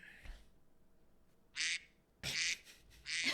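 A duck-quack alarm going off in three loud, rasping bursts, the last two close together, each alone against a quiet background after a faint opening sound.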